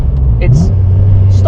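A modified car engine runs loudly and steadily up close, its low hum overlaid with brief chirps and squeaks, in a short stretch.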